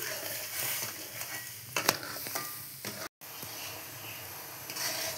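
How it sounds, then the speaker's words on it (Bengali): Mango jelly made from just two ingredients is being stirred steadily in a pan over a medium-low flame, giving a soft continuous scraping and bubbling with a few sharper spoon strokes and one brief dropout. "দেখুন এই যে নাড়ছি আমি, নাড়তে নাড়তে এই রঙটা পুরো চেঞ্জ হয়ে যাবে।"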